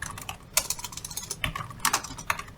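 Fingers type on a computer keyboard, a quick, irregular run of close, crisp key clicks with no talking.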